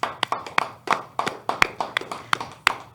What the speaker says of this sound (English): You all also deserve a round of applause.